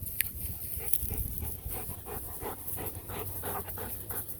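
Puppies panting in quick, steady rhythmic breaths close by, with soft rustling and a low background rumble throughout.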